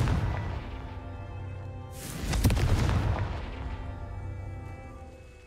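Confringo explosive spell going off in the Hogwarts Legacy video game: a single loud blast bursting out midway over a low rumbling background, then slowly fading away.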